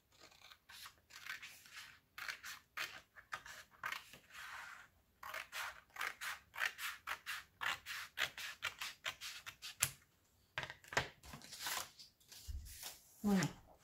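Scissors snip through paper while trimming an oversized sheet and cutting the corners for a black-and-white scrapbook album, the close rapid snips coming in irregular bursts with pauses and some paper rustling between them.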